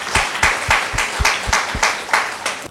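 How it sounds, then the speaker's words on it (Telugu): An audience at a spiritual talk claps in steady, rhythmic unison, about three claps per second, close and fairly loud. "క్లాప్స్ కొట్టండి గట్టిగా."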